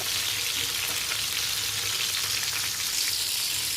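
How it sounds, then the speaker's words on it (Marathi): Stuffed squid (calamari) fries in a pan and is turned over now and then, giving a loud, steady, close sizzle that runs without a break and with no talking. "असे अलटी पलटी करून करून भाजून घ्यायचे"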